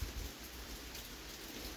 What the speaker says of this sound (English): it is raining pretty good here